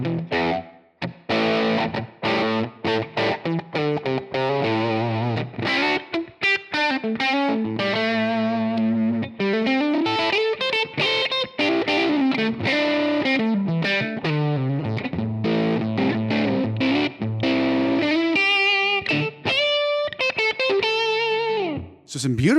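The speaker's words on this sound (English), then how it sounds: "we could get a lot of nice kind of grainy distortion out of this" Electric guitar through a Line 6 Helix amp model set for grainy distortion, playing a busy run of chords and single notes with fuzzy, gritty sustain, loud and close with brief gaps between phrases.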